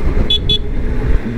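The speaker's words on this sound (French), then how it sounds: "Bon petit klaxon en plus, t'entends bien." Two short electronic horn toots from a Zero DSR 2019 electric motorcycle, a quick double honk over low road and wind rumble, close and clear.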